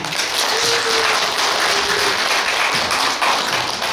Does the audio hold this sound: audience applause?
yes